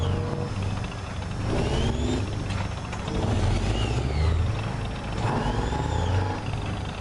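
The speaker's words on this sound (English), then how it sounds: "listen to that turbocharged diesel engine" A tank's turbocharged diesel engine runs loudly and steadily up close, with a deep low rumble that swells and eases slightly as it drives.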